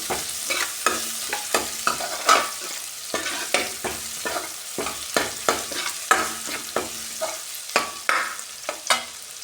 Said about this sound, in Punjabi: ਲਸਣ ਤੇ ਅਦਰਕ ਮੈਂ ਪਹਿਲਾਂ ਹੀ ਬਰੀਕ ਬਰੀਕ ਕੱਟ ਲਿਆ ਸੀ ਤੇ ਇਹਨਾਂ ਨੂੰ ਆਪਾਂ ਤੇਲ ਵਿੱਚ ਪਾ ਦਾਂਗੇ